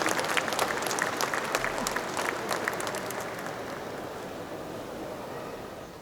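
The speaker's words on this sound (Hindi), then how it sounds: "अब आप लोग ताली बजा सकते हैं" Audience applause at a Kavi Sammelan and Mushaira poetry gathering, a dense crowd clapping steadily and loudly for about six seconds before slowly thinning and fading toward the end.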